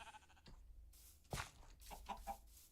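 Minecraft sheep bleat, a short game animal call standing out over quiet background sounds, with a few fainter calls following.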